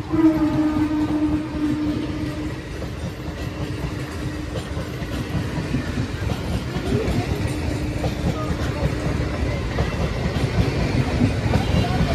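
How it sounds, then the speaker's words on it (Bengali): A passing train rumbles loud and close on the rails with continuous clattering wheel noise and a sustained horn tone, heard on a hot, sunny day outdoors. "দেখো ট্রেন যাচ্ছে গাইস"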